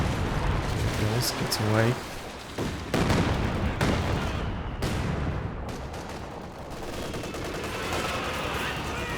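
A Katyusha rocket artillery barrage in Company of Heroes 2 lands as a loud series of booming explosions and crackling gunfire, with someone speaking briefly over the din.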